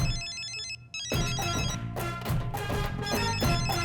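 Mobile phone ringtone for an incoming call in a South Indian film scene: a repeating electronic melody that briefly cuts out, then resumes louder with a rhythmic backing beat.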